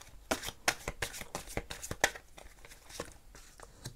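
Tarot cards being shuffled and drawn make a run of quick, close papery riffles and slaps in an irregular rhythm, soft and near, with no talk over them.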